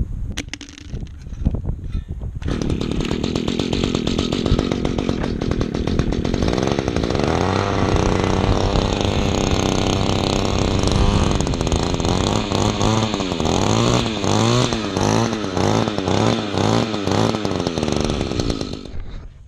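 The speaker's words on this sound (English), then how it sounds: "I'm gonna try bumping up the idle. Just a tad." A small rototiller engine runs loud and steady with its idle raised, a rough buzzing drone with a pulsing, wavering pitch across the run after a brief quieter start.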